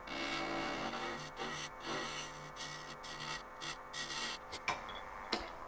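A spindle gouge cuts into a box elder burl spinning on a wood lathe, making a steady rasping scrape with rhythmic pulses as the tool rides the uneven burl, plus a couple of sharper catches near the end.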